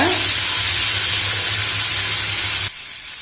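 Boiled chickpeas stirred in a hot pan for an evening snack sizzle loudly and steadily for almost three seconds, then the frying noise drops to a quieter hiss.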